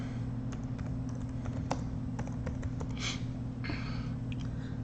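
Quick, irregular clicks of typing on a computer keyboard sound close and clear over a steady low electrical hum, with a brief breathy burst partway through.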